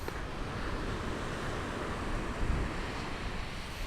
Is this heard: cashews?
no